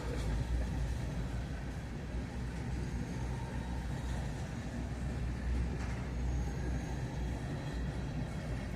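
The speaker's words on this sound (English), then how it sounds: "She's a long train." A long freight train rolls past, steady low rumble and clatter of covered hoppers and tank cars filling the whole stretch without a break.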